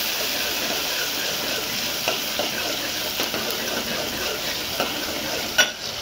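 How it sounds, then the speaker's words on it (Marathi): Garlic, onion and tomato sizzle steadily in a frying pan while being stirred, with a continuous close hiss and a few soft scraping knocks from the spoon. "आणि थोडं आपण हलवून घेऊ."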